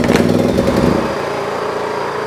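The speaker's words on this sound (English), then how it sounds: "we'll turn the engine on" A small portable generator engine, started on choke with a pull cord, sputters to life and then runs steadily, loud and close, with a continuous buzzing drone.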